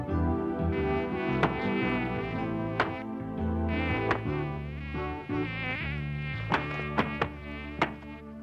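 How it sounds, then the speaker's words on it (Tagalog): Mosquitoes buzz in a dense, steady, whining drone that wavers in pitch and fills the whole stretch, with sharp knocks or slaps popping through now and then. "Bakit marami lamok dito?"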